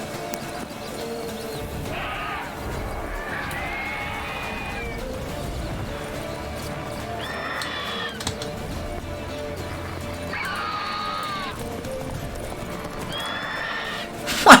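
A horse in The Witcher 3 video game neighs several times amid clip-clopping hooves, the whinnies rising in separate bursts over a low background, with some talk mixed in.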